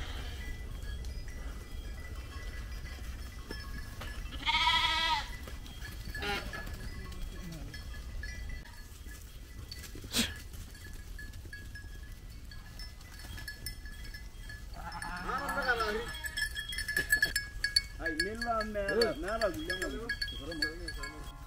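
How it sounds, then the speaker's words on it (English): Goats and sheep bleat in short wavering calls outdoors near Nairobi, Kenya, one around the middle and a cluster of several toward the end. Faint clinks and background voices fill the gaps. "goats and cows."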